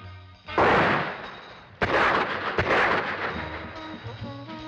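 Loud gunshots booming in a 1962 French film trailer, two heavy blasts with long reverberating tails and a sharp crack between them, with soundtrack tones lingering beneath.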